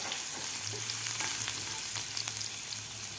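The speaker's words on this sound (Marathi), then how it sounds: "कुटून घेतलेला लसूण लसूण सुद्धा आपल्याला थोडासा फ्राय होऊ द्यायचा आहे" Crushed garlic fries in a pan with oil, a steady close sizzle and crackle with faint stirring scrapes and no talking.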